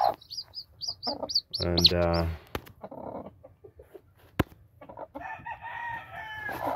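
Clucks and crowing from chickens around a broody game hen on a farm in spring, a rooster's call rising briefly amid scattered clucks and chirps, with someone speaking in between.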